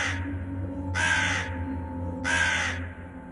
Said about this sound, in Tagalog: Napatingala kami lahat nang marinig ang tunog ng uwak na yon.